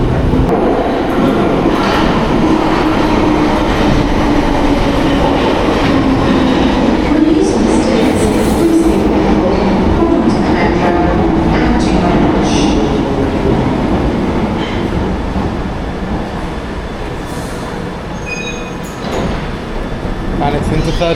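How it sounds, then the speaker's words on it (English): A London Underground train pulls away from the platform with a loud, rumbling roar and rattling wheels that swell and then ease off over about twenty seconds, while people talk nearby. "It's a good sign that this train's now leaving."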